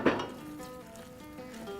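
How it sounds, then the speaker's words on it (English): Curry paste fries in a pan with a soft, steady sizzle after a brief clink of a utensil against the pan at the start, quiet and close, with no voices. "we give it a moment to fry."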